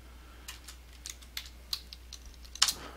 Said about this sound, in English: let's just type in info here